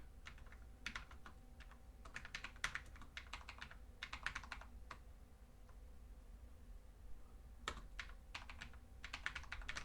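Fingers tap out text on a computer keyboard in quick, irregular bursts of clicks with short pauses between words, quiet and close against a faint steady hum.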